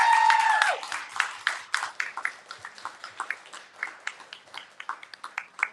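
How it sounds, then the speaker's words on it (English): A room full of people clapping, starting loud and thinning out into scattered claps over several seconds. "Could we please give a big round of applause for Harmony?"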